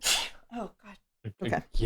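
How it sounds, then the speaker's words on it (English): A single sharp human sneeze bursts out at the very start, close and loud, followed by short spoken exclamations from the same person. "Done sneezing forever."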